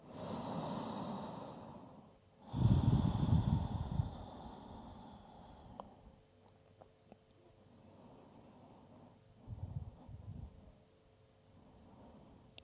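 Slow deep breaths during a gentle evening yoga flow, a long exhale followed by a stronger, louder breath, then quieter breathing with soft rustling of movement, close and unaccompanied by talk.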